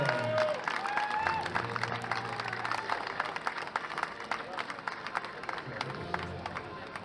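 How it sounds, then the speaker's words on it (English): A crowd applauds paraclimbing World Cup medalists at a finals event in Villars, with steady clapping that carries through the whole stretch and a hum of voices underneath. "Allez, les applaudissements par mesdames et messieurs."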